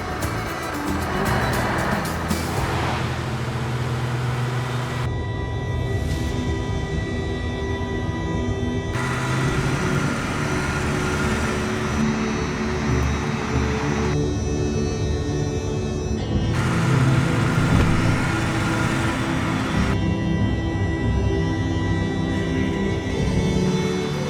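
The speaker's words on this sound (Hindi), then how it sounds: "स्टार्ट करनी पड़ती है गाड़ी चलाने के लिए" A car engine hums steadily for a long stretch at moderate level, a continuous low drone with no one speaking over it.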